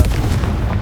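A Confringo blasting spell in the Hogwarts Legacy video game going off as one short, loud, muffled boom with a heavy low rumble and no speech over it.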